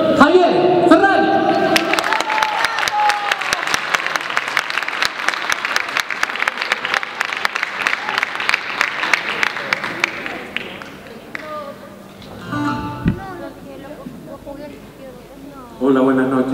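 Audience applause for a musician at a charity evening in a school, Colegio Antilen: dense, sustained clapping for about ten seconds that thins and fades, followed by brief voices and a renewed burst at the end.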